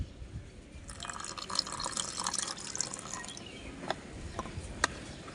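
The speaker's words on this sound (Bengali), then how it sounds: "এবার একটু দুধ দিয়ে দেবো।" Milk is poured into a kulfi mixture for mango kulfi, a soft continuous liquid stream splashing into the bowl close by for a few seconds, followed by a few faint drips, with no speech.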